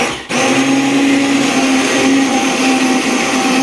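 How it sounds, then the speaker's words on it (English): Immersion blender pureeing pea soup in a pot, starting abruptly and then running as a loud, steady, close motor whir with a constant hum and churning texture throughout. "we're going to just use a nice immersion blender"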